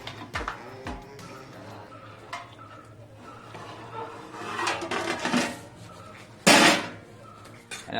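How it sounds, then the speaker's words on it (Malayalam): Rice being stirred in a cooking pot of boiling water in a home kitchen, with scraping and knocking of a utensil against the metal pot, irregular clinks and one louder clatter. "അരി നല്ലതായിട്ടൊന്ന് ഇളക്കി കൊടുക്കുകയാണ്."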